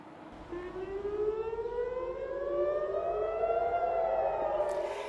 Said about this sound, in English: The Israeli air raid siren in my residential neighborhood on the outskirts of Tel Aviv woke me at 3 in the morning.